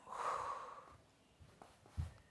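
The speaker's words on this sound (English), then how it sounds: "Belly breath in and letting all of the air out." One deep belly breath, a soft drawn inhale followed by a long airy exhale, close and quiet, then a few small soft sounds.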